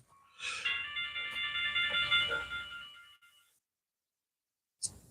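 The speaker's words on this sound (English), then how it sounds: "someone is calling my phone" A phone rings with an incoming call during a homestead livestream, giving one sustained electronic ringtone burst for about three seconds, fairly faint, that then cuts off into silence before a short blip.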